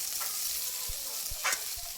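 Chopped onions frying in a wok alongside shrimp and potato, a steady close hiss with a few soft clicks of a stirring utensil, no voices.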